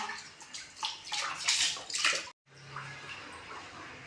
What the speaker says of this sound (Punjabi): ਬਸ ਇਹਦੇ ਚ ਪਾਉਣਾ ਪਾਣੀ ਫਿਲਟਰ ਵਾਲਾ ਲਿਆ ਕੇ